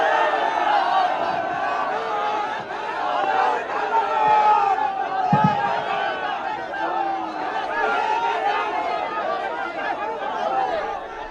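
Crowd at a protest march in Patna over voter list revision: a dense murmur of many voices chattering at once, steady and moderately loud, with scattered shouts rising above.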